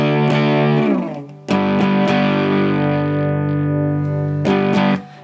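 A circuit-bent Behringer UC100 in a distortion mode with the chorus disabled gives a loud, buzzy, bass-heavy sustained tone in a few held bursts, cut off abruptly between phrases.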